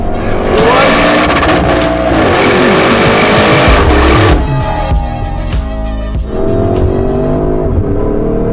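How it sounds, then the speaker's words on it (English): A Porsche Cayenne Turbo GT drifting: loud engine roar and revving with squealing tires, then the throttle lifts into lower exhaust burbles and crackles before climbing again, close and without speech. "Oh, I'm currently drifting the Cayenne Turbo GT."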